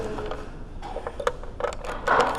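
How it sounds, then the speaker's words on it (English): A screwdriver loosens screws on the terminals of a 70V Bose speaker, producing close, short metallic scrapes and creaking clicks in quick irregular succession. "So we're just going to loosen the screws"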